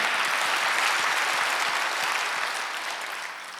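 Korean church congregation clapping together during a Wednesday worship sermon, a dense, even wash of applause that tapers off slightly toward the end.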